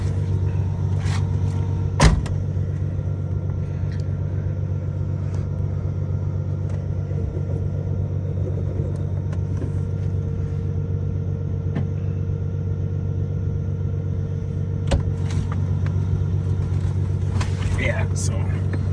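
A BMW E46 idles after a clutch replacement, giving a steady, loud low engine rumble with a soft whine on top, broken by a couple of sharp knocks.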